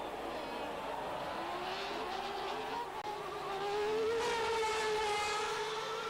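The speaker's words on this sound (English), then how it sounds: "Alesi hit the curb at the first chicane on lap 5 and spun out" A 1990 Formula One race car at the first chicane, its engine whining in rising and falling pitch sweeps, heard at a distance with crowd-like ambience and a louder, brighter surge toward the end; no talking.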